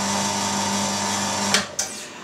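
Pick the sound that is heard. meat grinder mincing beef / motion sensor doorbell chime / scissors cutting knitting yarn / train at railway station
meat grinder mincing beef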